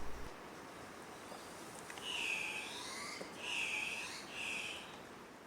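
Andean cock-of-the-rock in Peruvian cloud forest, giving three harsh, rising squawking calls spaced about a second apart at moderate distance over soft forest background hiss.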